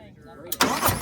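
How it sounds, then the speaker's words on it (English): A 2024 Harley-Davidson Road Glide motorcycle engine fires up: about halfway in, a sudden loud broadband roar replaces the quieter sound and stays strong and close to the end. "And the bike fires right on up."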